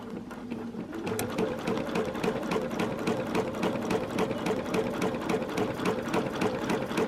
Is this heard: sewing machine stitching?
yes